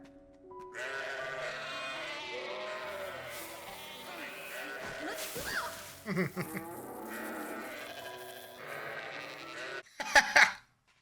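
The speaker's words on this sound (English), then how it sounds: "Oh, Thorfinn, could you go feed the sheep Thorfinn." Sheep bleating in the Viking anime Vinland Saga, with a few short cries cutting through a dense layer of orchestral music and ambience, plus a brief louder burst near the end.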